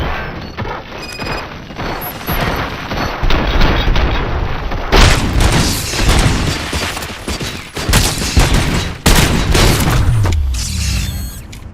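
A heavy gunfire volley in the video game Robocop Rogue City, with loud rapid bursts of shots, booms and crashing impacts repeating across the whole stretch, close and dense, with no talk.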